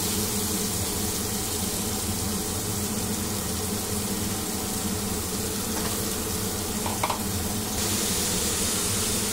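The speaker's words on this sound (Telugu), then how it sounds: "ఆయిల్ హీట్ ఎక్కిన తర్వాత ఇప్పుడు మనం ఈ ఉల్లిపాయలని దీంట్లో వేసుకుని ఫ్రై చేసుకుందాం." Sliced onions fry in hot oil in a pan for a sea fish curry, giving a loud, steady, close hissing sizzle that continues without a break, with a faint clink of a utensil near the end.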